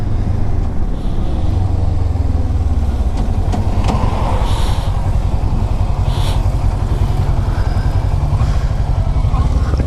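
A motorcycle engine runs steadily and loud throughout a cold-weather test ride, with a constant droning rumble and wind-like noise, with no clear pauses.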